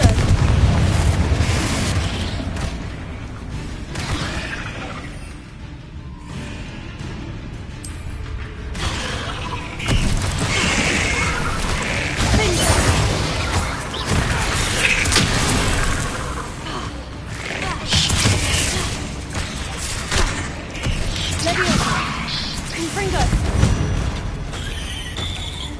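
Confringo fire spells in Hogwarts Legacy burst repeatedly in booming blasts over a dense, crackling combat din, with rumbling impacts and mechanical clatter piling up continuously.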